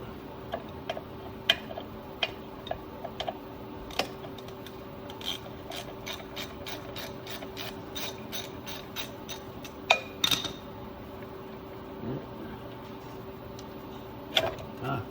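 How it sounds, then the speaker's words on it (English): A bolt is worked loose from the wheel cylinder behind the brake drum of a Dodge D100 truck: close, rapid metallic ticks and ratcheting clicks with scraping rubs. No one talks. "So let me take this other bolt out."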